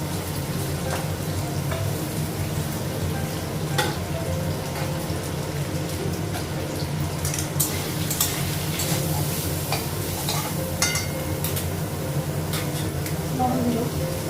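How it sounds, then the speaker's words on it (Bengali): Potatoes and soybean chunks fry together in a pan over raised gas heat, giving a steady broadband sizzle with occasional stirring clicks and scrapes, close and continuous throughout. "আলু আর সয়াবিন একসঙ্গে ভাজবো"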